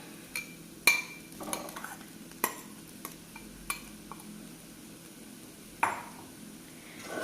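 Chicken is stir-fried with spices in a pan at home. A spatula scrapes and taps the pan in scattered sharp clinks over a quiet, faint sizzle, with no voices.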